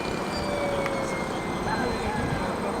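A Chipmunk scale model airplane flies at a club fun-fly event, its engine a steady drone over outdoor background noise, with a faint tone shifting pitch as it passes.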